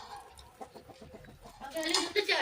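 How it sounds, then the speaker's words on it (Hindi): Chickens cluck softly on a village farm, faint and scattered at first and then louder and busier toward the end, with someone talking nearby. "ये देखिए जी, ये मुर्गियाँ आ गई हैं"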